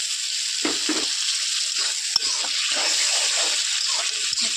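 A taro and lentil curry sizzles steadily in a hot pan with a little water added, while a spoon scrapes and stirs in short, irregular strokes, with one sharp clink.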